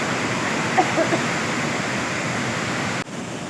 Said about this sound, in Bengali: এই যে কেমটি ফলসের ধারা আর এইখান থেকে দেখুন জল যে স্রোতে বয়ে চলেছে